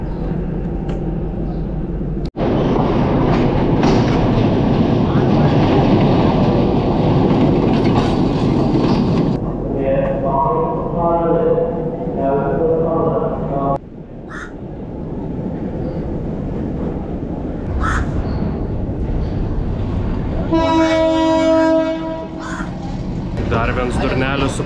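A train in Sri Lanka rolls past with steady rumble and clickety-clack, loud and close at first, then easing off, with crows cawing nearby and a sharp horn-like blare sounding near the end.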